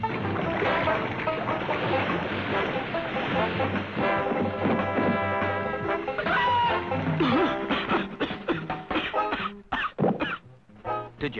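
A cartoon seagull on a beach squawks and clucks in harsh, uneven bursts, loud and close, mixed with cartoon music and sound effects.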